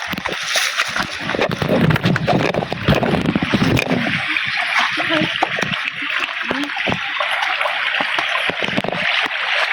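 A windy, rough sea after rain, with waves splashing and sloshing in a continuous loud wash and wind noise over it.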